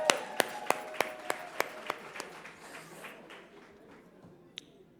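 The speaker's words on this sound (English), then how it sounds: "Please, another round of applause." Applause at an awards ceremony opens with a run of sharp, evenly spaced claps, then softens into a dwindling patter of scattered clapping and room noise.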